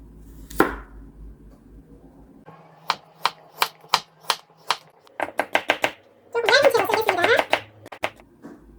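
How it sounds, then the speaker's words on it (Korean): A knife cuts carrot into thin julienne strips on a board, giving a run of crisp, evenly spaced chops with a faster cluster of rapid strokes, close and clear, no voices. "당근도 색감을 위해서 조금 썰어서 채로 썰어서 놔두겠습니다"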